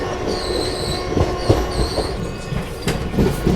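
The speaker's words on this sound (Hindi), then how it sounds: "देखिए लोकोमोटिव रिवर्स होने के लिए जा रहा है" Indian Railways locomotive from the Vadodara shed moving off to reverse, with wheels squealing and rolling clatter nearby over a steady rumble, heard without talk.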